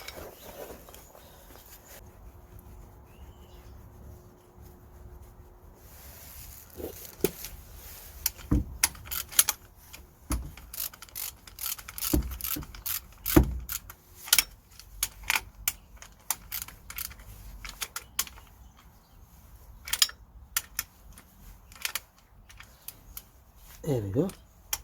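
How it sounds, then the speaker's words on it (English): Bolts being tightened during a Ford Transit CV joint replacement, heard as a run of sharp metallic clicks and ratcheting taps, irregular and close, clustered through the middle and later part with quieter gaps between. "Just gonna tighten these bolts now."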